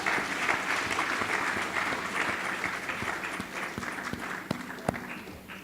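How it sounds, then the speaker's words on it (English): A forum audience applauds a speaker being called up, steady sustained clapping from a room full of people, moderately loud throughout with a few sharper claps standing out near the end. "Round of applause, please."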